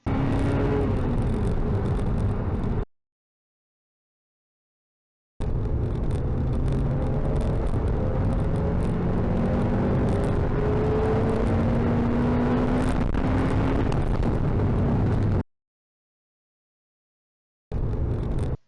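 Honda Civic Type R FN2 engine revving under acceleration after an ECU remap, a loud rising drone that sweeps upward in pitch, cut by brief silent gaps between pulls.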